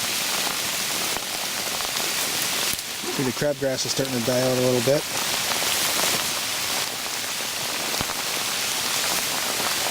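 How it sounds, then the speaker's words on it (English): Steady rain patters across a garden with crabgrass, filling the whole stretch with a close, even hiss, while someone talks briefly in the middle. "I'm coming back here to check on everything while it's raining"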